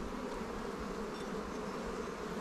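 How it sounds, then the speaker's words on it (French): Honey bees swarm and buzz steadily around an opened beehive during spring honey work, a dense, continuous drone that stays loud and close throughout with no pauses. "pousser les abeilles"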